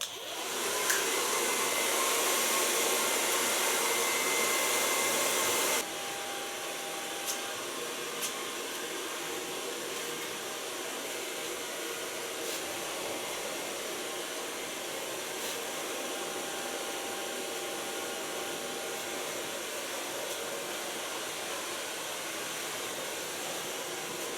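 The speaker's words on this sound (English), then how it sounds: "So far blow drying." A hair dryer blows loudly for several seconds, then drops to a lower, steady whir that continues to the end, with faint occasional clicks.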